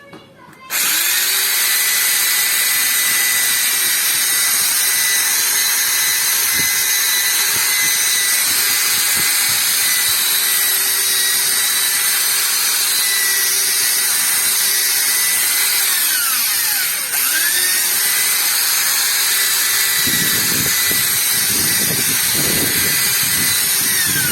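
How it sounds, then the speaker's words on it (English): A steady, loud 210-watt electric drill used as a polisher whines continuously with a brief dip partway, then rougher buzzing and rubbing near the end as it buffs a car headlight. "this is only 210 watts. It's only a drill bit machine."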